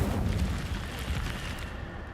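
Incendio fire spell cast in the Hogwarts Legacy video game, a loud, steady roaring whoosh of flame that fills about two seconds without letup, with no talking.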